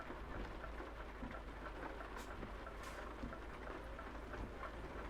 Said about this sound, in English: we got a little bit of rain